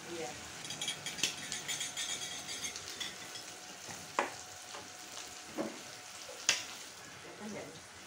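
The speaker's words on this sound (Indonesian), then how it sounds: "Tumis cumi" Squid sautéing in a pan with sweet soy sauce, a moderate sizzle broken by scraping and clinking of a utensil stirring against the pan, while people speak quietly in the background.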